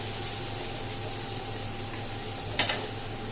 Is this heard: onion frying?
yes